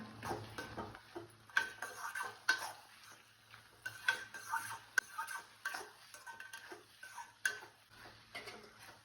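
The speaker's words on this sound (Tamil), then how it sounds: "போட்டு நல்லா வதக்கிடுங்க. மசாலா நல்லா வதங்கட்டும்." Masala with chilli powder being stirred and sautéed in a pan while cooking tomato rice, giving soft scraping stirs with faint sizzling and occasional sharp spoon taps against the pan, fairly quiet and steady.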